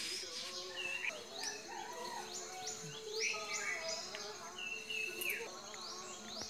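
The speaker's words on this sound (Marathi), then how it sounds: "मी तुम्हाला दाखवत आता हे सातभाई कसे असतात ते बघा." Jungle babblers call on a Konkan morning, a busy mix of harsh chattering and squeaky notes from several birds, fairly near and moderately loud, with no one speaking.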